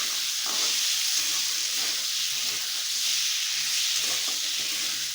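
Spices fry in hot oil for a Bengali vegetable curry as cut eggplant goes into the pan, giving a continuous, moderate sizzle with a faint crackle and no talking.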